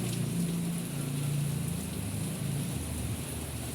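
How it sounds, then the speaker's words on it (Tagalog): Heavy rain pours steadily in Sorsogon proper, a dense, continuous hiss close to the microphone with low rumbling beneath, with no voices. "sobrang lakas talaga ng ulan"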